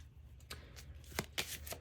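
Tarot cards being shuffled, a few quick soft riffles and taps close by, faint and brief, without speech.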